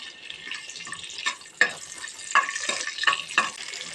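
Bay leaves and cloves hit hot oil and ghee in a pan, giving a steady moderate sizzle with a few sharp crackling pops and stirring scrapes, close by with no voices.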